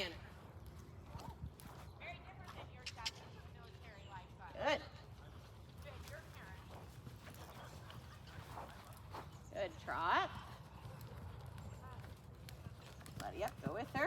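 Horse cantering in an indoor riding arena, soft rhythmic hoofbeats on footing running steadily underneath, with an instructor talking throughout.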